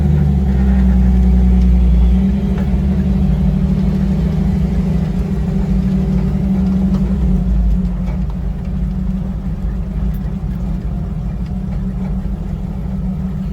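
Original four-cylinder engine of a 1954 Willys CJ-3B high-hood jeep idles steadily with a deep, loud, even rumble close by, holding a constant low drone throughout with no talk.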